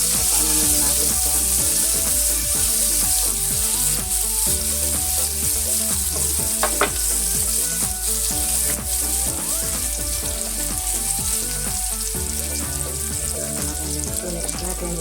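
Onion sizzles steadily with garlic in a hot pan for pork menudillo, a continuous loud frying crackle with occasional stirring and no talk.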